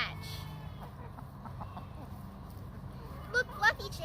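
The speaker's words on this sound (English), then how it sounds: "Now here's what it looks like when we feed them scratch." Chickens on a small farm cluck softly while being fed scratch grain, with a few brighter clucks near the end over a low, steady background.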